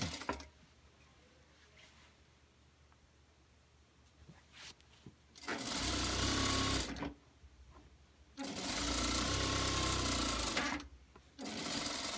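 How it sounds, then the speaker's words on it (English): A sewing machine stitches across the bottom of a fabric bag in three loud, close bursts of rapid whirring, separated by short quiet pauses. "Now we're sewing across the bottom of the bag, just like we did."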